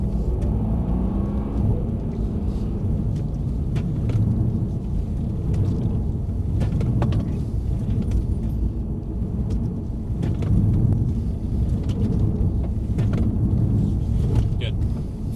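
A Mercedes-AMG C63 S drives on the track at Mercedes-Benz World, a deep engine rumble and road roar heard from inside the cabin, steady and loud throughout, with people talking over it.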